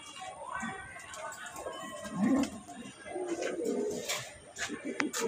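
Budapest racing pigeons coo in low, throaty bursts, close and moderately loud, while someone talks over them throughout.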